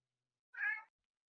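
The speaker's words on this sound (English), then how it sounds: "He meowed." A cat gives one short, clear meow with nothing else around it.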